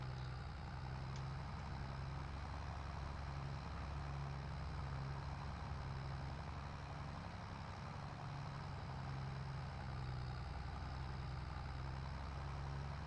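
An old tractor in Farming Simulator 22 runs with a steady, continuous low engine drone. It is heavy and unchanging throughout, with no talk over it.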